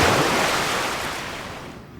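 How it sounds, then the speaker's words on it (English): Ocean waves from a sound-effect library wash in as a broad, loud surf roar that slowly fades over two seconds. Nothing else is heard. "Okay, it's called ocean wave."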